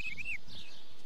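Bird chirping in the farming video game Stardew Valley, a short bright trilling tweet near the start followed by a fainter second chirp, close and clear over a soft game background.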